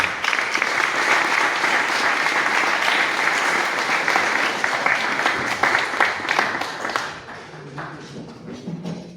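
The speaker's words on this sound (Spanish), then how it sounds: "pido un fuerte aplauso para nuestro señor alcalde" Sustained applause from an audience honoring the mayor at a university anniversary congress on history, dense and steady for most of the stretch before thinning into scattered claps near the end.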